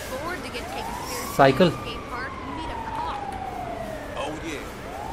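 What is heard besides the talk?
ambulance siren in video game GTA 5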